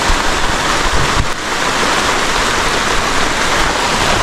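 A deep stream flows with a continuous loud rushing and churning of water, close by and steady throughout with no voices.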